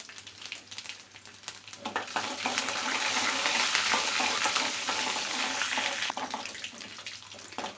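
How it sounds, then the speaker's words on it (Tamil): Peeled garlic drops into hot oil with spluttering mustard seeds for a Tamil okra kara kulambu, giving a loud, steady sizzle close by that swells and holds, with a few stirring clicks and no talk. "கடுகு நல்லா பொரிஞ்ச உடனே பூண்டு, உரித்து வச்சுருக்கிற பூண்டையும் சேர்த்திக்கலாம்."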